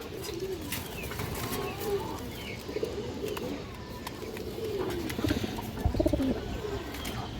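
Black lace pigeons coo steadily at close range in a market setting, with overlapping low burbling calls and occasional chirps from other birds.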